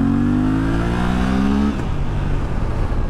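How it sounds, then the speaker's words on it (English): A used motorcycle accelerating hard in second or third gear, a rising engine drone climbing steadily through the revs before cutting off and settling into a lower rumble, loud and close. "what I usually do is just nail it in second or third gear"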